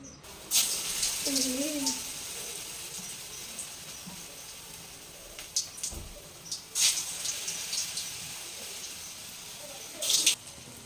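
Pakoras fry in hot oil with a soft, constant sizzling hiss. Louder crackling bursts flare up a few times as more batter goes in, and a faint bird chirp sounds early on.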